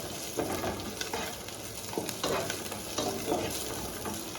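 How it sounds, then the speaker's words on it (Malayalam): Chopped capsicum stirred in a frying pan for Yemeni mandi, a continuous sizzle broken by repeated scraping strokes of a spoon against the pan, close and fairly loud with no talking. "ഇങ്ങനെ ഇളക്കി കൊണ്ടിരിക്കുക"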